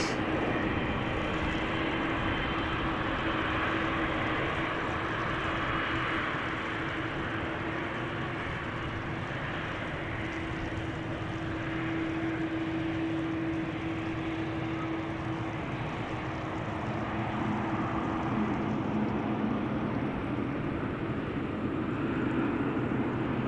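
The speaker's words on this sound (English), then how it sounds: "this is KLM flight 667 going to Austin, Texas. Boeing 7879 Dreamliner, which is 8 years old." A Boeing 787-9 Dreamliner of KLM, about eight years old, departs Amsterdam Schiphol for Austin, giving a steady, moderately distant jet rumble with a sustained engine whine and no talk.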